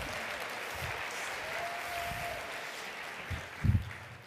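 Distant, faint applause from a conference audience, a soft continuous wash of clapping with a few closer thumps near the end.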